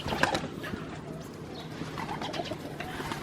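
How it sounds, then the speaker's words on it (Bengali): Pigeons being let out of a rooftop loft make soft, low cooing over a faint background murmur, with a few light flutters and taps scattered through. "এই যে কবুতরগুলো বের হয়ে যেতেছে"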